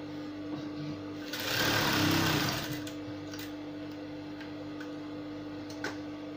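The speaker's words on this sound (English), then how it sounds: "I'll stitch the sides of the sleeve." A sewing machine stitches the sides of a fabric sleeve for an off-shoulder flared top, a steady mechanical whir that swells louder for a couple of seconds in the middle, with quiet voice in the background.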